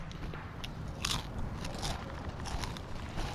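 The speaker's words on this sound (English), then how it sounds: "What are you chewing on?" Someone chews on crunchy food close to the microphone, with repeated crackling bites and crunches in an irregular rhythm and no talking.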